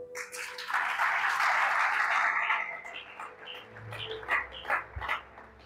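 A church congregation at a French-language worship service bursts into applause, a dense wash of clapping that fades after a few seconds into scattered cheers, voices and a few last claps.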